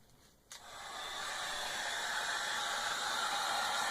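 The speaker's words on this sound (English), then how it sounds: "Heat up my heat gun." Heat gun blowing hot air in an art-journal crafting setting, switching on abruptly and rising to a steady, loud, even whoosh that continues uninterrupted.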